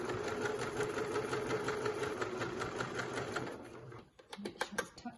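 A sewing machine stitches straps and a pocket onto a shopping bag, a steady rapid mechanical chatter for about four seconds, then it stops and a few soft clicks and handling sounds follow.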